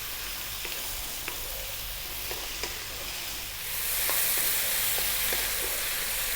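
Tomatoes with turmeric and chilli sizzle steadily in a hot pan while a utensil stirs them, with light taps against the pan and the frying hiss swelling louder partway through; no voices.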